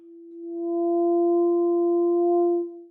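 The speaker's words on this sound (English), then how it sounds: "you can hear the resonant frequency of this tube pretty well" A tube sounding its resonant tone as fire burns at its bottom: one loud, pure, steady hum that swells in over half a second, holds for about two seconds and fades quickly, with no other sound.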